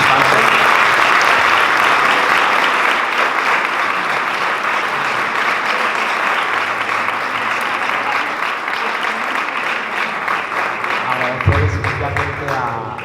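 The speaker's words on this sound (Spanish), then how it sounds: "Queremos dar un aplauso muy fuerte a nuestros participantes." Strong, sustained applause from an audience at an evangelical conference in Jerez, loud and dense throughout and tapering slightly near the end, with voices mixed into the crowd noise.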